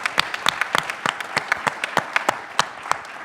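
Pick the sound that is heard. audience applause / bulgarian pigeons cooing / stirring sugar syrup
audience applause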